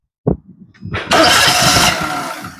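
A Perodua Myvi with low engine compression starts up: a brief click, a few seconds of cranking, then the engine catches into a loud, close, steady idle.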